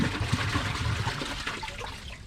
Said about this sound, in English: Here's a flush with a dry bowl.